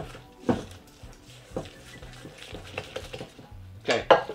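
Vanilla being mixed into snickerdoodle cookie dough in a bowl brings scattered clinks and knocks of a utensil against the bowl, with soft scraping between sharper taps and louder clatter at the start and finish.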